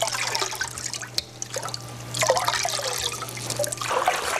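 Liquid nutrient solution being poured into a hydroponic reservoir tank of water, a close trickling and splashing that swells and fades in uneven waves over several seconds, with a low steady hum underneath.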